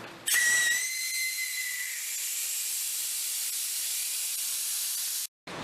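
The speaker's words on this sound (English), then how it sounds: "Should be able to just put that fitting back in and let it piss the air out." Compressed air escaping from a fitting on an air compressor tank, a loud close hiss that opens with a brief whistling tone and then holds steady for several seconds before cutting off abruptly.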